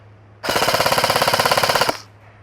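An EMG Helios F4-15 airsoft electric rifle on a 7.4-volt battery fires one full-auto burst of about a second and a half at a chronograph, a fast, even rattle of shots, close and loud, then stops.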